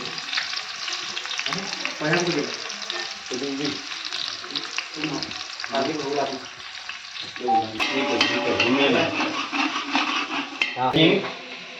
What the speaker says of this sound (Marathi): फोडणीला सुरुवात झाली